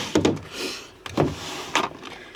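A drawer in a makeup storage unit slides open and shut, three scraping rumbles with thudding starts, close and fairly loud, without any voice.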